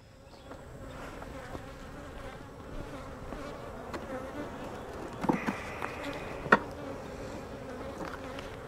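Honeybees hum around a small hive in a low, continuous drone, fairly quiet and close, with a couple of brief sharp knocks partway through.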